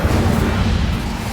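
An Incendio fire spell cast in Hogwarts Legacy bursts out as a loud, dense whoosh and crackling blast with a heavy low rumble, filling a brief moment without speech.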